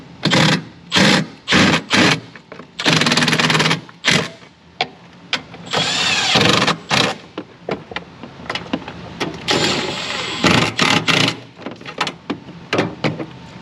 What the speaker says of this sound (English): Okay, impact coming in. Go ahead and tighten these guys down.